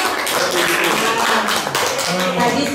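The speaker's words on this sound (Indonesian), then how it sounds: "Terima kasih Bu Tia, tepuk tangan dong." A group at a school event claps together in a brisk burst of applause, with voices talking over it.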